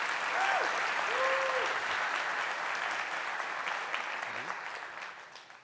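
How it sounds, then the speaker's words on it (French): Conference audience applauding at a DevFest talk, a broad sustained patter of many hands that gradually fades toward the end, with faint voices rising briefly over the clapping. "Un tonnerre d'applaudissements"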